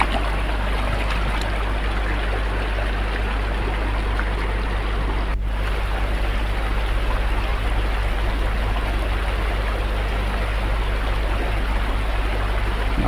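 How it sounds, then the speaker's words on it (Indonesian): Clear stream water at a campsite in Cibodas, Bogor, flows in a steady, broad rushing gurgle, continuous and fairly close, with no talking. "mericik airnya. Nah, ini cukup jernih airnya."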